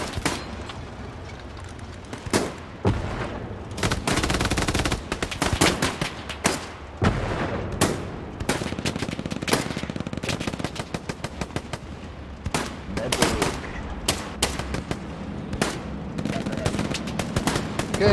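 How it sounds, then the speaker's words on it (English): Bombing run in the World War II game Hell Let Loose: rapid, loud bursts of gunfire and explosions crack in dense clusters across eighteen seconds, mostly alone, with voices faintly underneath. "Okay, bombing run live. North of the Cobra farm"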